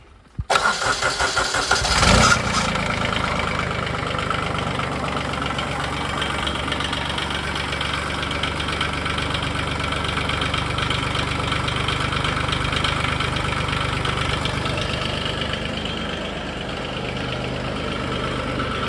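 A Scag 72-inch diesel Turf Tiger mower engine cranks briefly, catches, and settles into a loud, steady, knocking idle that runs on close by.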